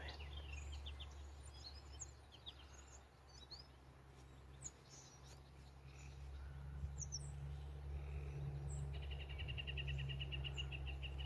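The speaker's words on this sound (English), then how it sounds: "Very beautiful birds." Outdoors near a permaculture planting of canes, birds give scattered chirps and tweets at a distance, including a quick rapid trill, over a low steady background hum with insects faintly buzzing.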